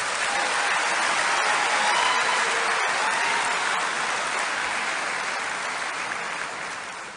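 A large audience in a hall applauds workers at the inauguration of the Kinshasa financial centre, a loud, dense, sustained wash of clapping that tapers off slightly at the end.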